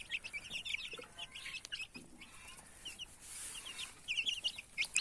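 Indian chicks and chickens cluck and chirp in short, scattered bursts across a quiet outdoor background, with a few sharper calls standing out near the end.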